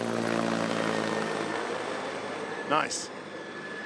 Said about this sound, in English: Hey, chopper!